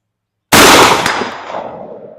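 A single Remington 12 gauge shotgun shot firing a 7/8 ounce slug at a range, one sudden loud blast out of silence followed by a decaying boom and echo.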